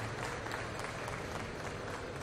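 Audience applause at a German timber construction award ceremony, a steady, even wash of many hands clapping from a large crowd, moderately loud and continuous throughout.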